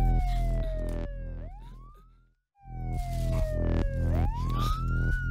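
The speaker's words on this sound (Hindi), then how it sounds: "एम्बुलेंस की आवाज है" A wailing ambulance siren sweeps up and down in two long cycles, fairly distant, with a brief gap between them and no voices.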